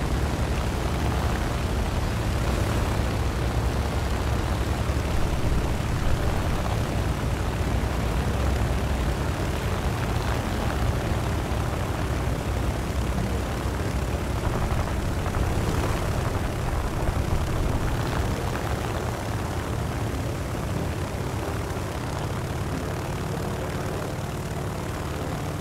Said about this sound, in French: Il y a un Hurricane là qui se balade.